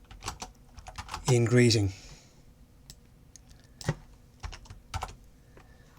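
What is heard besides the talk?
typing code on a computer keyboard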